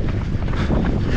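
Steady wind roars and buffets the microphone during an outdoor half-marathon run, a dense low rumble filling the whole moment with no voices.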